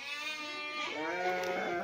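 Sheep bleating on a farm in cold weather: a single drawn-out, wavering bleat, moderately close and somewhat faint, over a steady background hum.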